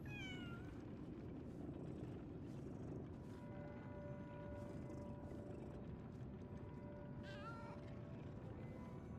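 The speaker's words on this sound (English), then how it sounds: "I can pet the kitty." A cat in the video game Lies of P meows in drawn-out, rising and falling cries, one at the start and another near the end, over a loud continuous game soundtrack.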